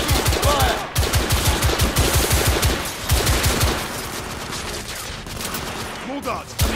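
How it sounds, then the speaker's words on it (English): Heavy gunfire in The Order: 1886, with rapid, loud bursts of automatic fire that pause briefly, resume and then thin out, while voices talk over it. "I'm under heavy fire!"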